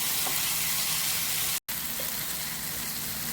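Lentil wadiyalu fry in a pan with a continuous, even sizzle, close and moderately loud, broken by one brief dropout midway.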